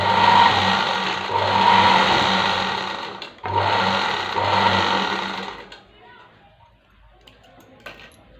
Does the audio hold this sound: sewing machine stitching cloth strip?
yes